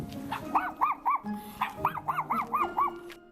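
A dog gives a rapid string of yipping barks, two clusters of about five sharp, moderately near barks separated by a brief pause.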